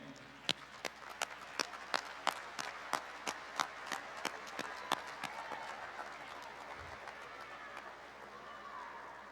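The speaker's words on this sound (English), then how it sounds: "join me in giving your parents and family members a round of applause" Sparse, evenly spaced claps ring out from a graduation audience in a large hall, a slow run of about a dozen distinct sharp hits over a low crowd murmur that settles into quieter room noise.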